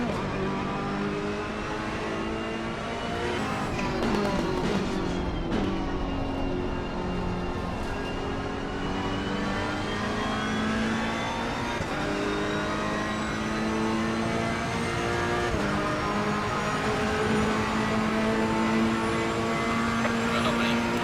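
A race car engine in Assetto Corsa Competizione drones steadily and loudly for about twenty seconds, its pitch sweeping up and down through gear changes.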